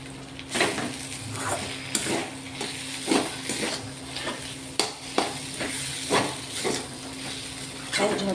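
Poha fries in ghee in a pan while a spoon stirs it, giving a steady sizzle broken by regular scraping clinks of the spoon against the pan, heard close up.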